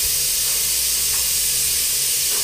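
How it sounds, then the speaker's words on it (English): Compressed air rushes through a Harbor Freight texture spray gun for knockdown drywall finish, a steady loud hiss that runs without interruption, close by and with no talk. "without a cutoff, it's just going to flow air"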